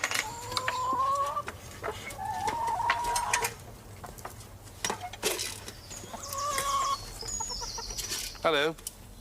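Hens clucking and squawking in a farmyard, several close, loud drawn-out calls and cackles in uneven bursts, with occasional bumps and background noise between them.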